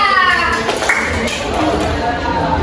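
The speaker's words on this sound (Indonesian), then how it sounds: "Oke, tepuk tangan untuk kita." Brief scattered hand clapping in a classroom teaching session, a few quick claps over a murmur of voices and background noise, short and fairly close.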